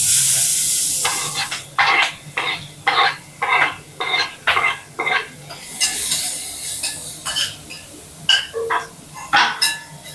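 Onions and green chillies fry in a hot pan with a steady sizzle, broken by repeated scraping stir strokes in a quick uneven rhythm, close and loud with no talk.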